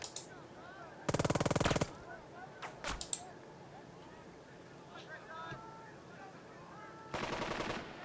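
Two loud, rapid bursts of machine gun fire from the PC war strategy game Burden of Command, one near the start and one at the end, separated by scattered shots and quieter battle ambience.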